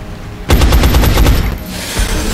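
Gunfire from the video game XCOM: Enemy Unknown bursts out loud as a rapid automatic volley of about eight shots, followed by a lower echoing tail.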